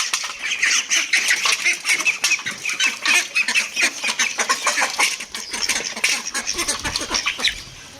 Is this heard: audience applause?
no